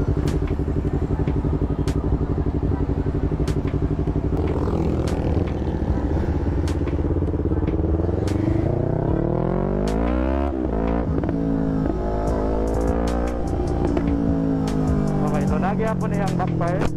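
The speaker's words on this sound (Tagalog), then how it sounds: "Nagyapon na yung backfire." A Yamaha MT-03 motorcycle with a remapped stock ECU and quick throttle revs up and down near the listener, its engine tone rising and falling in sweeping bursts, with someone talking over it.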